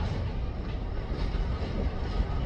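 An E&LS freight train rolls past in Wisconsin, a steady loud rumble of wheels and cars at close range, continuous with no break and no talk.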